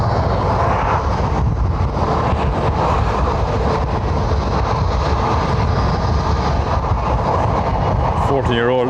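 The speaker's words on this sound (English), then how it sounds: "737-800. There's the takeoff." Boeing 737-800 airliner taking off at Lanzarote Airport, a loud, steady jet engine roar that fills the whole stretch, with a person briefly talking over it.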